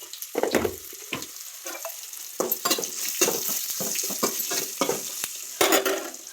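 Sliced bitter gourd (kakarakaya) with salt and turmeric cooks in a pan, giving bursts of sizzling and clattering stirs at irregular intervals over a soft background hiss.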